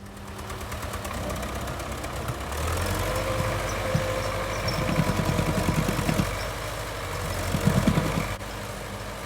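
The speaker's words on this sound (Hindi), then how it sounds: "लीजिए, रूसी ट्रैक्टर भी दलदल में धंस चुका है।" A Russian tractor stuck in mud runs with a low, rough diesel engine that rises into heavier, knocking labouring pulses as it strains, moderately distant with no talk.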